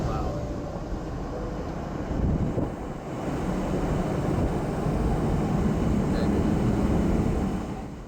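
Cessna light aircraft in flight over the Sedona area, heard from inside the cabin: a steady, loud engine and propeller drone with a wind-like roar, holding a constant level throughout.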